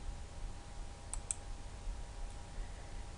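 Two quick mouse clicks land close together, crisp and near, while editing a Flash animation timeline, over a faint steady background hum with no talking.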